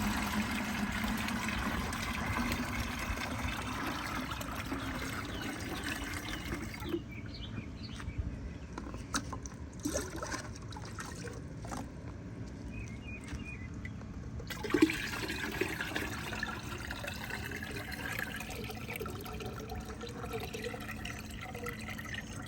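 Rainwater pours and splashes steadily from a bucket onto a garden, stops for several seconds, then gushes again in a continuous stream.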